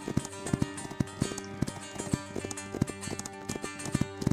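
Horse hooves gallop in the Marque of War video game during a cavalry battle, a fast steady clip-clop beating at close range over continuous battle noise.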